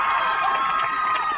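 A live audience cheers and shouts excitedly at a rap performance on Saturday Night Live, a dense, steady roar of crowd noise with no pauses.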